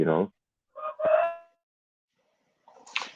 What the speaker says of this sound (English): I look in the comments about the rooster crowing